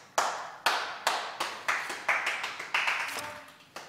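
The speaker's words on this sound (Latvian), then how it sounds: "Ar skaļiem aplausiem." About ten sharp, evenly spaced hand claps from a Latvian TV talent show audience, loud and close, beating out a steady rhythm.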